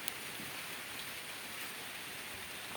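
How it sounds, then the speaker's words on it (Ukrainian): Steady rain falls over a vegetable garden with greenhouses during a storm, an even, continuous hiss of drops throughout with no talk. "Ось такі тучі, йде дощ"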